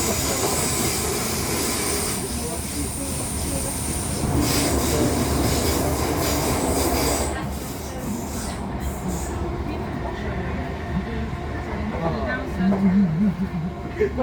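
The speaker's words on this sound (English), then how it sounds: "the train starts to get quite loud as it went over points and bends" A West Midlands Railway Class 323 electric train rumbles loudly over points and around bends, with roaring wheel noise and high squeals that ease off, then a quieter steady run.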